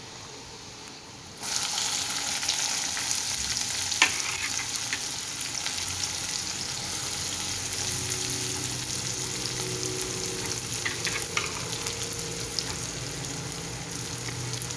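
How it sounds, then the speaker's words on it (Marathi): Onion sizzles steadily in a pan with garlic already browned in oil, a continuous close frying hiss that starts abruptly and holds evenly, with occasional faint clinks of stirring. "कांदा चांगला परतून घ्यायचा आहे।"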